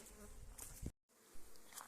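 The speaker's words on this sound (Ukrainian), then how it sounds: "Тут теж бджоли працюють." Honeybees buzzing close by at a hive in a steady hum, broken by a brief silent gap before the drone resumes.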